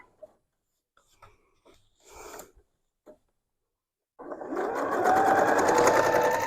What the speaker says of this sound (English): I'm going to just do a quick locking stitch on that 1/4 inch border where my binding is going to cover it